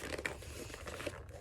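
Plastic packaging of a Nintendo Switch controller being ripped and torn open, giving steady crinkling and tearing close up, with a sharper rip partway through.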